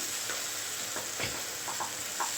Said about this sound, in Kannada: ಚೆನ್ನಾಗಿ ಫ್ರೈ ಮಾಡ್ಕೊಳ್ಳಿ ಈ ಥರ ಎಲ್ಲ ಎಣ್ಣೆ ಬಿಟ್ಕೊಬೇಕು